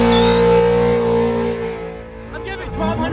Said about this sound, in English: I've been dying to do a burnout or a donut in my driveway forever